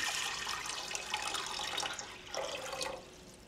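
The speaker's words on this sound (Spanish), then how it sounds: "Aquí en esta olla vamos a agregar 2 litros de agua" Two litres of water pour into a cooking pot for squash atole, a soft continuous splashing stream that shifts in pitch near the end.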